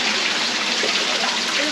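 Warm water rushes and bubbles in a natural rock pool at a warm spring along the Gibb River Road in Western Australia, a brief, close, steady hiss of flowing water.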